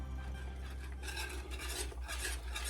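A spoon stirs hot pepper sauce through a pot of food on the stove, scraping steadily and continuously at close range with a faint sizzle underneath and no voices.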